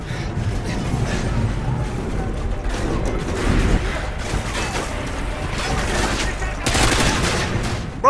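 Gunfire in the Modern Warfare 2 video game: scattered and clustered automatic shots crackling at moderate loudness amid battlefield clatter, with heavier bursts near the middle and end.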